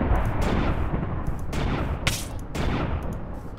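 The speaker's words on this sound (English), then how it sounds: "I'm just gonna try and take out this wisp. Let's see if I can actually" Gunfire from a modded Minecraft gun aimed at a wisp, heard as several loud broadband shots at roughly one-second intervals over a dense rumbling background.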